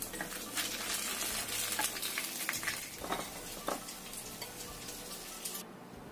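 Snacks deep-frying in hot oil give off a continuous bubbling sizzle, with occasional clicks and scrapes from stirring or utensils, moderately close and with no voices.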